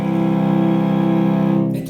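A sustained two-note third interval held as a steady harmonic chord for almost two seconds, then cut off abruptly, with no voices.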